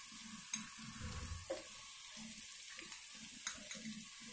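Chili powder frying in oil in a pan for an egg and potato fry, heard as a quiet, faint sizzle with soft intermittent scraping and tapping from stirring, no voices.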